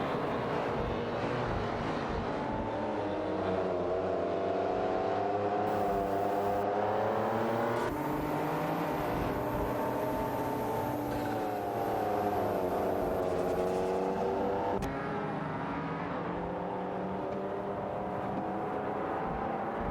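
Mercedes-Benz SL500 and Subaru Impreza 22B STI race cars roar in a racing video game, with sustained engine drones whose pitch rises and falls as the cars shift and accelerate, layered and continuous with no speech.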